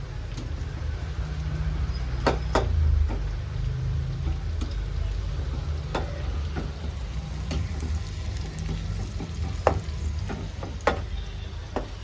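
Chicken pieces frying in a pan for biryani give a steady, close, broadband sizzle through the whole stretch, with occasional sharp clicks of a spatula or pan knocks and low rumbling underneath.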